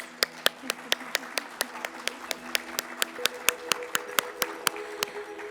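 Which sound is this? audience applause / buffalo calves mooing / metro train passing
audience applause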